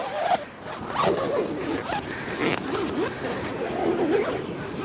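A zipper is pulled shut with several rasping strokes at a van camp in India, close and moderately loud over a low background rumble.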